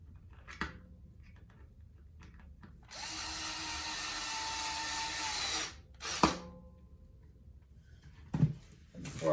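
Close power drill driving screws into a First Act double cut electric guitar neck during a neck shim repair, one steady run of about three seconds followed by a few short clicks and handling knocks.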